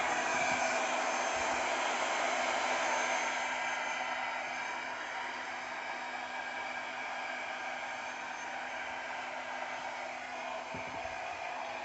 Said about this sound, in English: grab the handy dandy blow dryer. Good thing I put it on low